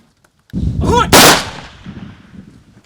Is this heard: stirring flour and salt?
no